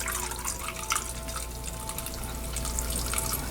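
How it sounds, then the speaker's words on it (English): Electrolyte water runs and drips steadily out of an HHO reactor with no valves, a continuous close trickle and splash lasting the whole stretch with no voices. "that's how I remove the electrolyte water out of the reactor"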